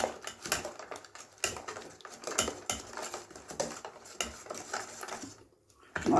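Batter for patishapta, made with flour and the other ingredients, is beaten in a bowl with a utensil, giving rapid, steady scraping and clinking against the sides, close and fairly loud, with a brief pause near the end.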